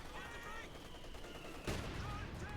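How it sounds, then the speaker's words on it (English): Mortar and machine gun fire in Company of Heroes 2, a dense, continuous rattle of gunfire with a sharp blast partway through, under a steady battlefield roar and faint talk. "Mortar firing down the machine gun here."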